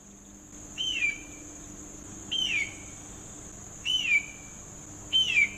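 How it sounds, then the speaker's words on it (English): A hawk call from a sound effects library: four short, piercing descending screeches spaced evenly over a steady background hum, each clear and isolated, with no voices. "hawk."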